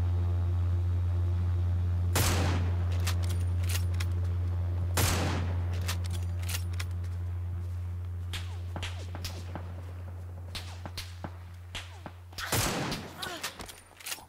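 Gunfire in a PUBG New State match with the M762 rifle: loud single shots and quick bursts crack out at irregular intervals over a constant low drone, with footsteps and faint clatter between them.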